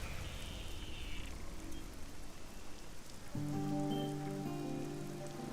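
Rain falling steadily as a broad, even hiss, with soft background music joining partway through, in a Hindi TV drama scene.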